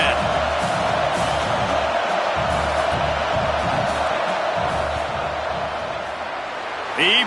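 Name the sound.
football stadium crowd cheering during field goal attempt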